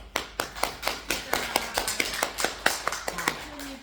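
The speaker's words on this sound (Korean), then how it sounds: "박수 한번" Audience clapping at a Buddhist temple service, steady rhythmic group claps at a moderate level, close and even, with faint voices murmuring underneath.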